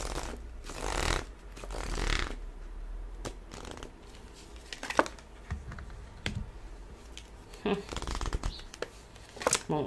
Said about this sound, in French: je mets les cartes et je vous en parle